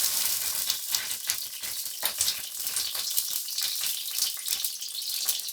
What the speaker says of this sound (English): a way to test if your oil is ready is add a splash of water.